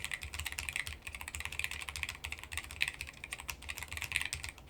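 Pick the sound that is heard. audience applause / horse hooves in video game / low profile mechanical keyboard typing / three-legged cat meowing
low profile mechanical keyboard typing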